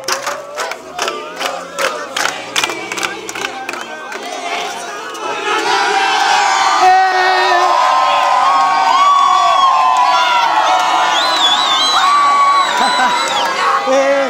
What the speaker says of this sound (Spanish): Están gritando.